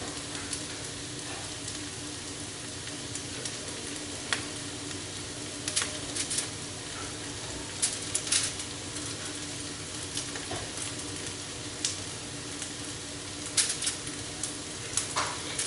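Bacon strips sizzle and crackle in a hot frying pan at breakfast, a steady fizzing hiss with scattered sharp pops and light clinks throughout, fairly close and without talk.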